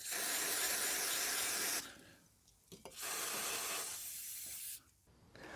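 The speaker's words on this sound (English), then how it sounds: "we're going to get some penetrating fluid and give it a good squirt of that" GT85 penetrating fluid sprays onto a bolt in a rear shock absorber mount on a Vauxhall Corsa D, in two long hissing bursts and a shorter third one, close and steady.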